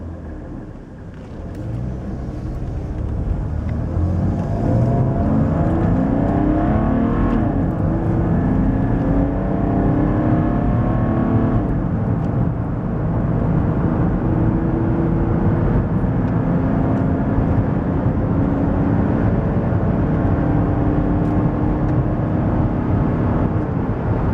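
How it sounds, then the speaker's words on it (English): Straight-six diesel in a Mercedes W124 300TD estate, heard from the cabin as it pulls away and accelerates: a steady, loud rumble and rising drone that holds for over twenty seconds with no talking. "It's got a lovely sound of the straight six engine."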